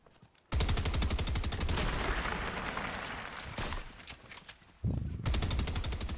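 Loud, close automatic gunfire in a shooter video game, long rapid bursts of shots filling most of the stretch, briefly broken by a pause before another burst resumes.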